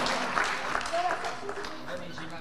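Audience applause at a conference in Nice marking World Multiple Sclerosis Day, a steady broadband patter of many hands lasting the whole stretch, with faint voices mixed in underneath.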